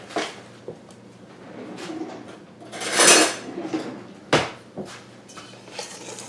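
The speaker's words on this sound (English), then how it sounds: "then we're just going to stir it" Lemon bar mixture is stirred in a bowl, with scattered clinks and scrapes of a utensil against the sides and a louder rasping burst partway through.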